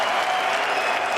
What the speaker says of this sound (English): please make some noise for your FACEIT major champions